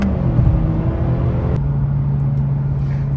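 A car engine cruising at 4,000 RPM in fourth gear makes a steady low droning hum from inside the cabin, with a faint whir above it and no voices.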